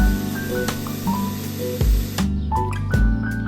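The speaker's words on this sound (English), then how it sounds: "then he's rinsing out this bucket to make certain there's no mold or food residue left behind" Water spraying and splashing inside a bucket as it is rinsed out on a small flower farm, a steady close hiss of spray with brief bumps and shifts.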